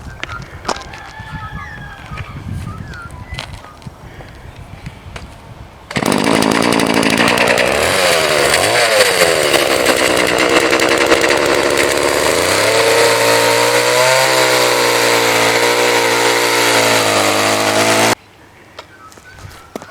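A chainsaw cuts the corners off a cheap firewood log, revving loud and close in one sustained burst of about twelve seconds with the engine pitch dipping and rising under load, after quieter background sound.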